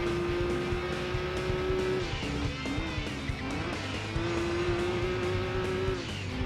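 A Toyota Supra races in Gran Turismo 2, its engine droning steadily at high revs with pitch dips and rises as it shifts and corners, with occasional tire squeal, and no voice over it.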